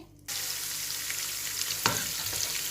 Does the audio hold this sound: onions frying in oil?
yes